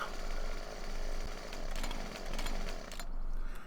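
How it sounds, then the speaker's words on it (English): A McCulloch chainsaw runs in Farming Simulator 2017, a loud continuous buzzing engine drone with rhythmic swells in intensity, heard alone without talk. "Now let's see if we got our chainsaw."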